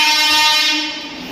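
A train at a railway station sounds a loud, close horn-like blare with a rumbling rail roar that fades slightly toward the end.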